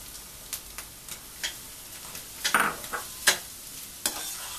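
Sugar is stirred into potato halwa cooking in ghee, producing repeated soft scraping strokes over a faint sizzle, closely heard and without talk.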